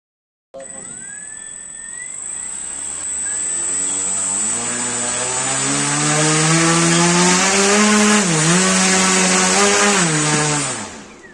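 Powerful propeller motor lifting a 2 kg weight at low throttle: a loud, close, high-pitched whine that starts abruptly, swells steadily in pitch and volume, wavers briefly, then cuts off.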